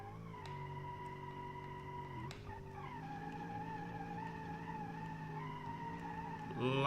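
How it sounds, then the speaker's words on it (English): V8 race car in a video game spinning its rear wheels under hard throttle, a steady high-revving engine whine with shifting pitch and tire slip, loud and continuous, rising sharply at the end. "Lots of wheel spin from that V8."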